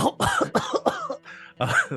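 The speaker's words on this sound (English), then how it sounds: "she coughs out a puff of dust" A woman coughs in a short series of rough, throaty bursts up close, with a brief pause and then one more cough, clearing dust from her throat.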